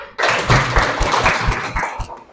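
Students in a classroom guidance session break into applause, a dense burst of hand clapping from a group that starts suddenly and holds steady for a couple of seconds before thinning out.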